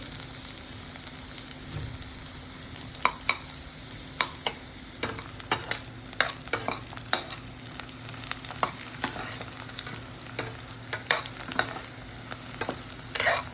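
Onion sautés in a pan, a constant close sizzle broken by frequent sharp scrapes and clicks as the spatula stirs the pieces around.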